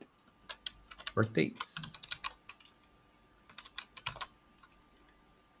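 A computer keyboard clicks in quick, scattered bursts of keystrokes at close range, with a brief spoken word in the middle.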